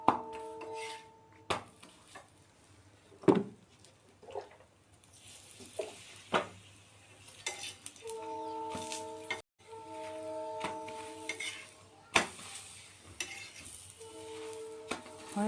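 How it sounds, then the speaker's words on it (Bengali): Paratha flatbread frying in a pan at home, a soft steady sizzle broken by scraping and clinking of a utensil against the pan, with intermittent electronic tones in the background. "আর এই যে পরোটা সেকছি"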